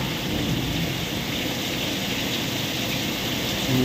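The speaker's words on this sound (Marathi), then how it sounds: "पाऊस बघा केवढा मोठा आले" Heavy monsoon rain with rumbling thunder at a village home in Mahad, with green hills, mist and grazing cattle nearby; a loud, steady, dense roar of rainfall with low thunder rolling underneath throughout, no voices.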